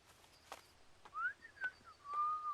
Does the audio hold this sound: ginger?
no